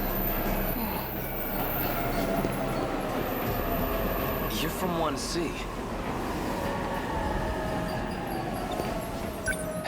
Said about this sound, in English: The train's already here